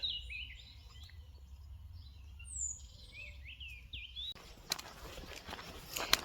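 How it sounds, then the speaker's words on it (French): Birds sing along a walking trail on the Camino de Santiago, with high chirps and warbling phrases heard fairly faint and close, followed by the crunch of footsteps on the path. "Oh moi, les bruits des oiseaux, j'adore."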